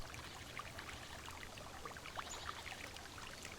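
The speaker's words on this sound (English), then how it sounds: "You can hear the gentle sounds of the water tumbling over the pebbles and stones in the bottom of the stream." Gentle water from a small woodland stream tumbles over pebbles and stones, a soft continuous babble and trickle, steady and faint, with no voices.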